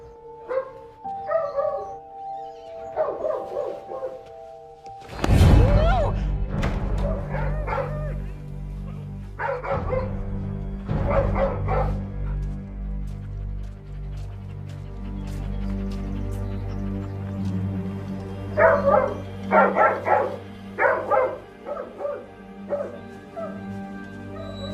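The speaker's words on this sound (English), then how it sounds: "He's barking like crazy." A dog barks excitedly in a romantic comedy film scene, with repeated loud barks, yips and whimpers in irregular bursts over a musical background.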